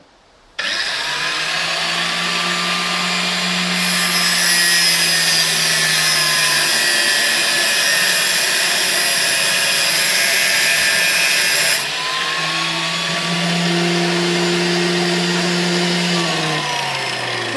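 A drill bit is ground on a bench grinder in a workshop, the motor whining steadily for about seventeen seconds while the bit rasps against the wheel in a loud, continuous grinding hiss that shifts in pitch as pressure changes, with no talking.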